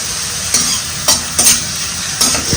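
Pineapple pieces fry in ghee in a pan while being stirred, a steady close sizzle broken by several sharp scrapes of a spoon against the pan.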